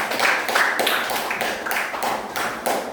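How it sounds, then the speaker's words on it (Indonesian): A classroom group claps in a quick, regular patterned rhythm, the bursts loud, even and repeating without pause. "Tepuk tangan dulu untuk kelompok produsen"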